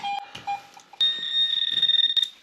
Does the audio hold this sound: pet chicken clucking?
no